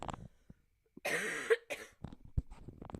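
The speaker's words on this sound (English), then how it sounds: "I'll get back to practicing so that I'm not coughing in your ear." Two harsh coughs close to the microphone in quick succession, surrounded by soft shuffling and small handling noises.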